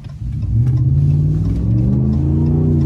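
A car pulls away from a stop sign with the pedal floored, its engine rising in a steady, loud, close drone that climbs in pitch and holds under hard acceleration for a few seconds, with no talking.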